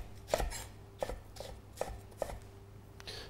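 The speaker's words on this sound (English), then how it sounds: "I'm going to shred the whole leek" A knife shreds a leek on a chopping board in a few distinct, evenly spaced thuds, each a crisp, close cut with quiet pauses between.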